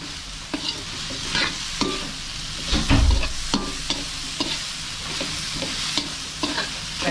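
Salagubang beetles being sautéed with tomatoes in a pan: a steady, soft sizzle with repeated scraping and stirring strokes and a louder clattering burst near the middle, with no voices.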